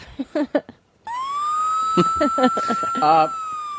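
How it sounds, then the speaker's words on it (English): A steady siren tone holds at one pitch for a few seconds, with people talking over it and short beeps near the start. "That's a police car, dude."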